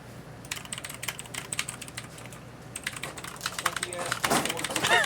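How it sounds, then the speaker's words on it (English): A brand-new clicky computer keyboard is typed on in bursts of sharp keystrokes, sparse at first and then quicker, with a chair squeak near the end. "Clicky ass keyboard."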